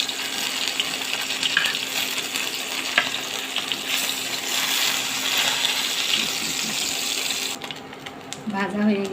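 Pieces of taki fish frying in hot oil in a frying pan give a steady, dense sizzle throughout, with a brief clatter near the end as a voice begins speaking.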